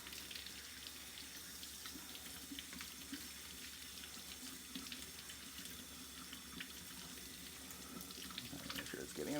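Hot tap water runs steadily over a cleaning part from a Dreame X40 Ultra robot vacuum being rinsed in a sink, a continuous close splash that swells slightly near the end.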